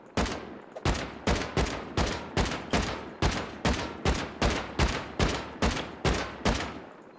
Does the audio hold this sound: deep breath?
no